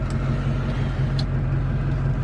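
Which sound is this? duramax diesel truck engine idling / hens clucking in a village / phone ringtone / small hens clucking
duramax diesel truck engine idling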